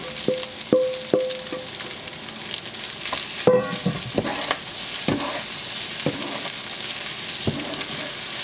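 Shrimp stir fry with egg added back sizzles steadily in a hot pan, with a continuous frying hiss broken by scattered clicks and knocks of stirring, close and fairly loud, no talk.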